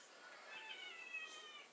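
A cat meows loudly and repeatedly in a Siberian village house at night, a drawn-out yowling cry heard alone with no talk.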